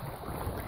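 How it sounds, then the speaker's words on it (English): Wind buffets the microphone outdoors on a creek while bass fishing in the Hunter Valley: a brief, steady, low rumbling roar with no other sounds. "That's actually quite windy"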